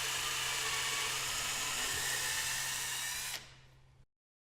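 A power drill bores pilot holes into a wooden header board, a loud, steady high-pitched whine held for about three seconds before it spins down and cuts off, with no voices.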